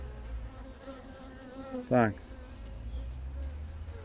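Steady insect buzzing from a hive, with a brief louder swell near the middle as a bee passes close; a voice speaks a single short word.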